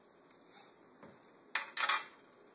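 Utensil clinking and scraping against a bowl while stirring egg yolk with mustard powder and salt, a few soft scrapes followed by two sharper, louder clinks near the end.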